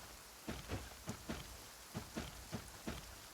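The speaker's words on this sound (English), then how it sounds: "Yet today, the downpour arrived on schedule." A rain downpour falls in a video game cutscene, heard as a faint steady patter that surges in regular soft pulses, with no voices.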